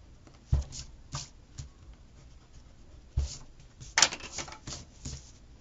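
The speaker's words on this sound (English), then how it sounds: "I'm going to erase this here." Eraser rubbing across paper in a planner, a few short scratchy scrubbing bursts with pauses between them, close and fairly quiet.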